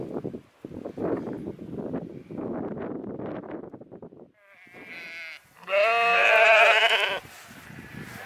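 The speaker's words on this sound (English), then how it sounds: "Being attacked by sheep." Sheep bleat loudly and repeatedly near the microphone, several overlapping calls, with a strong drawn-out bleat toward the end over rustling and light wind.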